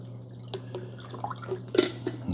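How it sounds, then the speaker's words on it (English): Water goes into the rear reservoir of a Farberware Dual Brew 12-cup coffee maker, heard as quiet dripping and splashing with a few sharper drops near the end, close by and with no talk. "So now I'm going to pour the water right back here where it goes."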